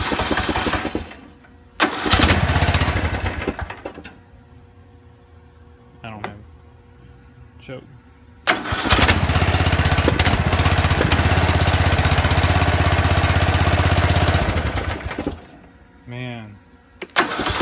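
A John Deere Z225 lawn tractor engine is cranked and fires up, with bursts of loud, rough running separated by quieter pauses before it catches and runs steadily at close range; someone says a word.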